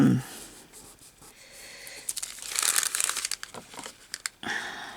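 Scissors cut a small piece off a clear strip in a craft journal, giving a short run of crinkly snips and rustling paper that is close and moderately loud, following a brief breathy sound.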